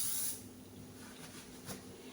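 A short, bright hiss of an aerosol can sprayed onto discolored tile grout lines, loudest in an opening burst and then fading to fainter spurts, with no talking.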